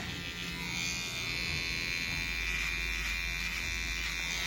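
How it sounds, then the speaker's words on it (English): A small electric pet clipper buzzes steadily and close up as it trims the hair around a dog's ear, a continuous hum with slight shifts in pitch as the blades move through the fur. "I'm going to take my baby clipper, and I'm going to go in and I'm just going to clean up this area around his ear"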